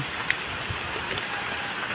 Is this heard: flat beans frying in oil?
no